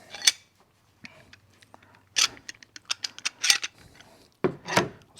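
Clamp being ratcheted tight onto wood while building a cat tree, a series of close sharp clicks and mechanical clacks in irregular bursts separated by short quiet gaps, with no talking.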